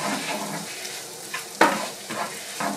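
Tomato paste stirred into a one-pot Spanish chicken and rice, a soft steady sizzle with scraping spoon strokes and a sharper clatter near the middle.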